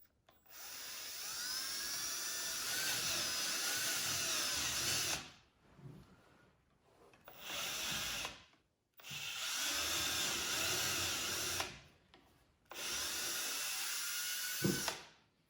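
A brad point bit drills into wooden legs in four bursts of loud, steady power-drill whine, separated by short quiet gaps.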